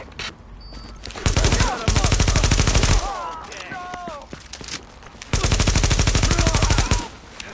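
Automatic gunfire in The Division: two long, loud bursts of rapid rifle fire, each lasting about two seconds, separated by a stretch of scattered shots, with radio-style voices and chatter underneath.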